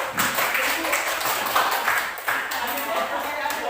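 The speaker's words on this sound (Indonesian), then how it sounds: "Ya, tepuk tangan dong kelompok satu." A group of participants in a classroom discussion session claps together in a steady, dense patter of many hands, lasting throughout with voices mixed in underneath.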